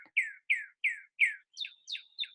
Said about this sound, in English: Some, like the northern cardinal, can sing beautiful songs.